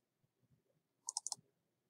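A computer mouse button is clicked twice in quick succession while selecting an object name in Blender, two crisp, faint clicks close together in an otherwise quiet room.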